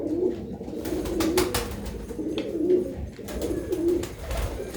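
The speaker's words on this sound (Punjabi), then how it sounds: "ਇਹ ਹੈ ਬਈ ਜੀ ਕਬੂਤਰ" A pigeon coos in low, rounded, repeated phrases about once a second, fairly close, with faint background noise and no speech.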